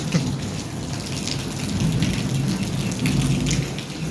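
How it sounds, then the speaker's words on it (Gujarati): Steady rain falls continuously, a dense, even hiss of drops with no voices. "જોઈ લો મિત્રો, કંઈક આવો કંઈક વરસાદ છે"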